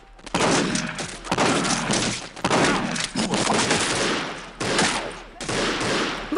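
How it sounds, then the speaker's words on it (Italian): Gunfire in the video game Postal 2 comes in long, loud bursts of rapid automatic shots, broken by brief pauses, close and harsh with no talk over it. "Ma perché sparano tutti a me?"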